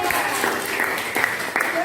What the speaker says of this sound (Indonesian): tepuk tangan untuk dua orang yang memberikan